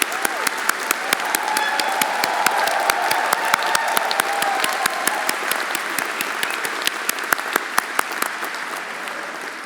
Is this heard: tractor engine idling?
no